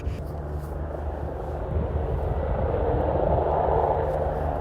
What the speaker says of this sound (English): I think that helicopter's coming after us.